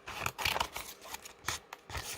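Scissors snipping through paper while trimming handmade scrap tags for a craft project, a series of close, crisp cuts and rasps in quick irregular bursts.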